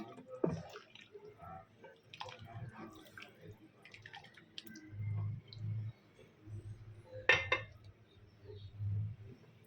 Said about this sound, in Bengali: তো এখন একটু নেড়ে চেড়ে দিচ্ছি।